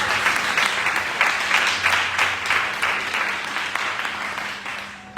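A church congregation at a worship service claps together in a lively, steady round of applause, moderately loud, gradually easing off toward the end, with a faint low hum beneath.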